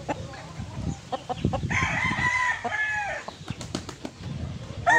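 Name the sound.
Larry Romero sweater gamefowl rooster crowing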